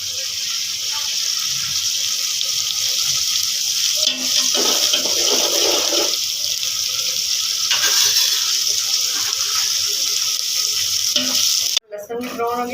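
Garlic and green chilli paste fries in a pan while being stirred for a cauliflower, pea and potato curry, a steady loud sizzle running nearly throughout, with brief scraping stirs and a clatter near the end.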